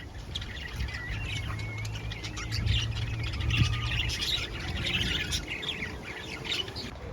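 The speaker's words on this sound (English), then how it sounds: "And these are parakeets." Parakeets in Australia chatter and squawk in a busy overlapping flock, a continuous jumble of chirps and screeches at moderate distance over low background rumble.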